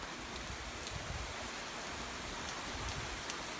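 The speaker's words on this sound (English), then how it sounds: "the rain's really started to pick up" Heavy rain from Hurricane Irma pouring off a neighboring house roof, a dense, continuous steady hiss of water with low splashing rumble and no pauses.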